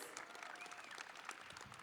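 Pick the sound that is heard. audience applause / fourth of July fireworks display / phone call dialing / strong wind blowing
audience applause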